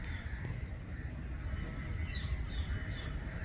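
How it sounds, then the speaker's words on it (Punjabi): A crow caws a few times, faint and slightly distant, in an open outdoor spot in Punjab where a peacock and pigeons peck at grain, over a steady low rumble of background noise. "ਕਾਂ ਵੀ ਹੈ ਨਜ਼ਦੀਕ ਇਸ ਦੇ"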